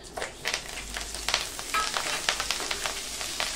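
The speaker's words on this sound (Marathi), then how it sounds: "आता आपण मिरच्यांचे तुकडे तळून घेऊया." Green chilli pieces fry in hot oil for a murmura chivda snack, giving a close, crackling sizzle with irregular pops and spits alongside occasional stirring.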